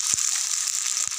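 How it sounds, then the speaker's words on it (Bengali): Water poured into a sizzling taro and prawn curry sets off a loud, bright hiss close by, with a couple of low thuds from the pan and no talk. "এতে এবার জল দিয়ে দেব।"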